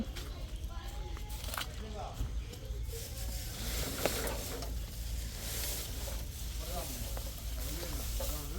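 Food sizzles steadily in a frying pan at home while being stirred, the crackle running continuously with occasional scrapes and clatter as someone talks over it.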